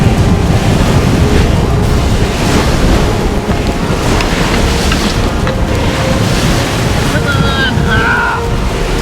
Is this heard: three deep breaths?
no